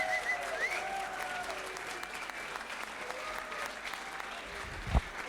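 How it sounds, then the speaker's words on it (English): Comedy club audience clapping, whooping and cheering to welcome a comedian onstage, a steady dense wash of applause with scattered shouts throughout and a sharp thump near the end. "So I want you to start clapping and whooping and cheering."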